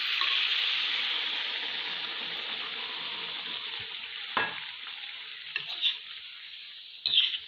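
Vegetables fry in a pan at home after a splash of water goes in, and a steady, close hiss of sizzling and steam fills the clip. A few clinks and knocks of a utensil against the pan break in near the end.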